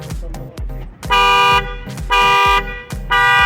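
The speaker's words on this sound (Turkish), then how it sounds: "Bu şekilde alarm veriyor." A loud Ford Focus Mk3 car alarm blares close by in repeated pulsing bursts, each cycle cutting off briefly before sounding again.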